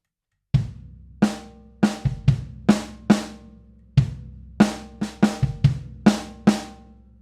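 Close drum kit pattern with a bass drum anchoring the beat and crisp accented snare hits, a steady run of strikes with softer in-between notes across the bar, played alone without voices.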